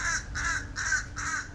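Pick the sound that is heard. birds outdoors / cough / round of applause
birds outdoors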